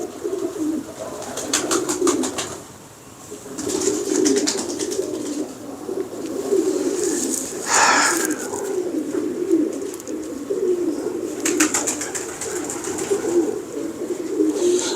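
Pigeons coo repeatedly at close range in a loft of a pigeon keeper, soft throaty coos recurring throughout over a steady bed of bird chatter and light wing flutters.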